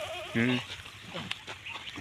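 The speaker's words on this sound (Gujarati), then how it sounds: "આપણે આવી ગયા બકરા સારવા ઢગલા બંધ બકરા છે" Goats bleating nearby in a large herd near Dhafal Dam, one loud wavering bleat followed by shorter calls, mixed with people talking in the background.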